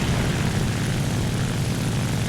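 Steady, loud propeller engine drone of an XP-55 aircraft in the War Thunder game, a continuous broadband roar with a throbbing low end and no voices.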